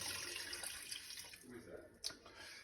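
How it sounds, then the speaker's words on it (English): Water is poured over bones into a soup pot for French Canadian yellow pea soup, a quiet, steady splashing pour that weakens and ends with a brief splash near the close. "I'm gonna put in a couple more cups because the bone is not submerged."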